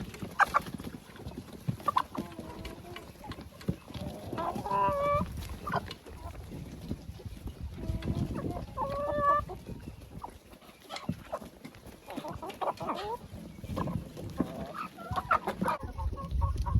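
Hens clucking and murmuring inside a chicken coop while being fed soaked bread and table scraps, a busy overlapping chatter of several birds with occasional louder squawks, close and continuous.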